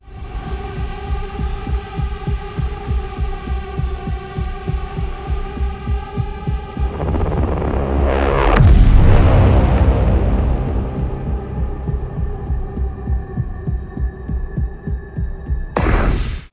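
A dark, throbbing low drone from a video game's hellscape ambience, in a demon-fighting game, pulses steadily with an ominous hum, swelling into a deep rumbling surge before settling back into the menacing pulse.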